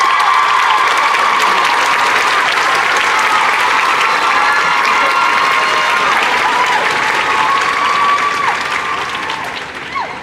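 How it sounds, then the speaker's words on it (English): Loud, sustained applause from a large convention-panel crowd at WonderCon 2014 with cheering mixed in, a dense wash of clapping that holds steady before easing off near the end. "let's give a big round of applause and welcome for Richard Armitage."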